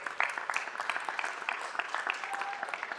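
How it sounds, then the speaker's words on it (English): Scattered, moderate clapping from attendees at a city council meeting honoring faith leaders, with individual claps distinct against a quiet room. "Another big round of applause for all of our faith leaders"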